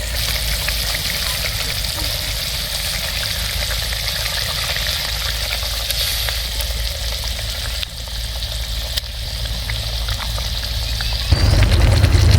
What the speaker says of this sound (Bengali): এখানে গ্রেভির জন্য যে জলটা দিয়েছিলাম সেটা দেখুন খুব সুন্দরভাবে ফুটতে শুরু করেছে।